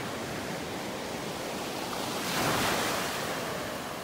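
Ocean waves roll onto a beach in North Naples, Florida, in a steady close hiss of surf. One wave breaks a little louder midway, with light wind noise and no voices.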